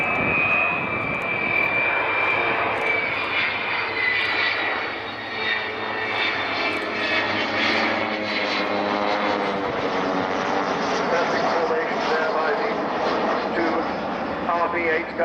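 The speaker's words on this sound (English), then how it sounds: "You just get a little suspicion of Vulcan's engine slightly opening up there." An Avro Vulcan bomber's Rolls-Royce Bristol Olympus engines roar at an airshow, a loud, sustained jet rumble with a shifting whine as they ease up slightly, while a commentator talks over it.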